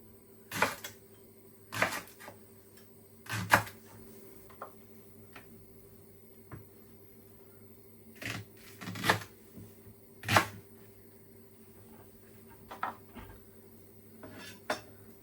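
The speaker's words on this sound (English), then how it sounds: "Right, the leek is all nice and diced." Knife dicing leek on a chopping board, sharp thuddy chops arriving in short bursts separated by pauses, fairly quiet against a faint steady hum, no talking.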